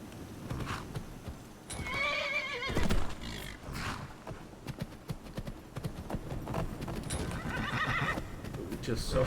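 Horse in a fantasy role-playing video game, the Skyrim-based Elysium Remastered mod setup, neighing loudly several times over clip-clopping hooves, while someone talks over it.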